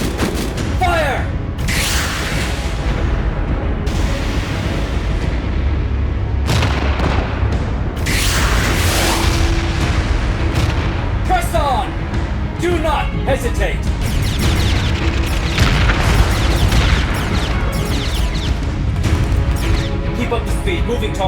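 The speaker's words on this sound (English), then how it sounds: "Launch Calamity missiles on my mark." Calamity missiles launching and exploding in a sci-fi starship film battle, with repeated loud booms and crashing blasts in rapid succession under music and spoken dialogue.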